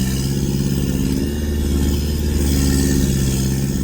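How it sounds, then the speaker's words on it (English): Off-road vehicle grinding up a very steep track in low-range first gear, the engine held at steady, fairly high revs throughout, loud and close with a continuous rough drone. "First gear low, all the way up with a good amount of revs."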